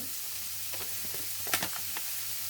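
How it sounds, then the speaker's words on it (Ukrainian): Steady sizzling of hunter's sausages and mushrooms frying together in a pan, with a few brief clicks and scrapes over the continuous hiss. "ковбаски обсмажуються разом з грибочками"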